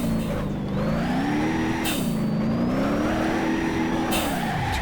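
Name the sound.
turbocharged engine revving in BeamNG video game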